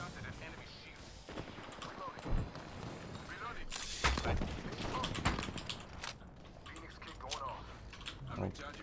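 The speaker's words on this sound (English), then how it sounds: "Your team's shooting at us now" Enemy team gunfire in an online shooter game, scattered shots and clattering mechanical sounds at moderate distance, mixed under ongoing talk.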